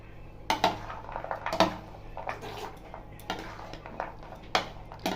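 Spice mix being stirred into aloo kabli, a Bengali street-food potato dish, in a bowl: scattered light clinks and scrapes of a utensil against the bowl, irregular and close, with no talk.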